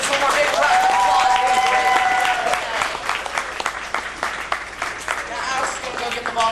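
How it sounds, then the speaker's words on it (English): A crowd of tram-tour visitors at the MGM Studios backlot in 2004 applauds actors and actresses, loud sustained clapping that fades into scattered claps as a voice talks over it. "Let's give our actors and actresses one more big round of applause."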